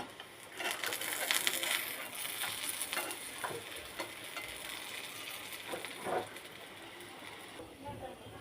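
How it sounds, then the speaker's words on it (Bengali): Fish kebabs frying in a pan as they are flipped, a soft steady sizzle with scraping and stirring clatter, fairly quiet, while someone talks over it. "এখন আমি কাবাবগুলোকে উল্টিয়ে দিব।"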